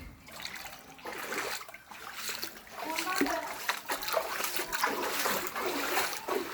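Floodwater splashes and swirls in a flooded house yard, a continuous close wash of water with children's voices mixed in.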